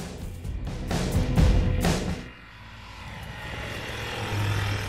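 A small propeller airplane flies overhead with a rough, droning engine roar that swells loudly and then fades to a steadier, more distant hum, with no voices.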